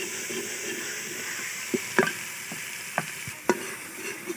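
A steady sizzle hisses from a hot pan as spices are tempered for a mixed vegetable, potato, pea and carrot dish, with occasional scrapes and clinks of a spoon stirring.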